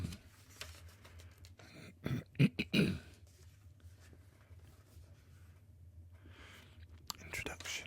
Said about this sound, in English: I'm sorry about the coughing as well